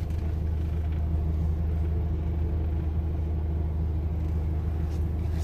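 A car rolls slowly through a crowded parking garage, giving a continuous low engine rumble and road hum from inside the cabin, steady and enclosed.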